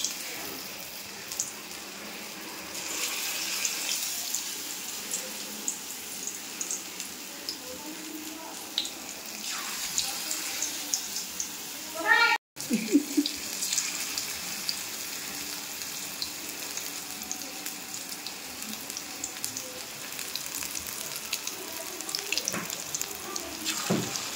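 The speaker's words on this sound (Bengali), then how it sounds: "বড়া নতুন করে সাইজ করে তেলে ছেড়ে দিলাম।" Brahmi greens fritters (shak bora) dropped into hot oil give a steady, hissing sizzle that continues for over twenty seconds, with small crackles and a short clatter near the middle.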